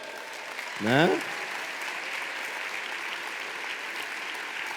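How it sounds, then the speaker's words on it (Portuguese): A church audience applauds as arriving teenagers enter the service, a steady wash of clapping that fills the whole stretch, with a brief spoken word near the start. "Um aplauso para eles"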